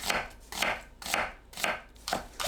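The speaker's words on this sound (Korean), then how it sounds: "양파를 채 썰어주세요." A knife slices an onion into thin strips for a Korean side dish, five steady, evenly spaced strokes about half a second apart, close and crisp with no talking.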